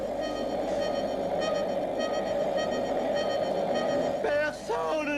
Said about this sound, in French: On arrête cette alarme ou je fais un malheur.